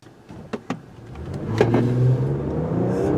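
A 2020 Toyota Highlander Platinum with all-wheel drive accelerates hard from a standstill toward 60 mph, its engine note building steadily and loudly after a couple of short thumps near the start.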